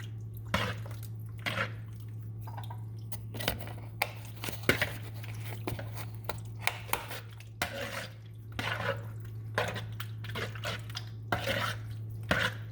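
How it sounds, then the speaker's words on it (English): Spoon scraping and clinking in a bowl as peach cobbler ingredients with a pinch of cinnamon are mixed together, brisk irregular taps and scrapes close by over a steady low hum, no talk. "And now we're gonna just mix that up."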